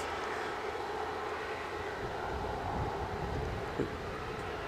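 An airplane takes off at Edinburgh airport with a continuous engine roar and a rumbling low end, heard from some distance, and a brief bump of handling noise near the end.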